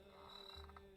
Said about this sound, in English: You still got all the crickets and everything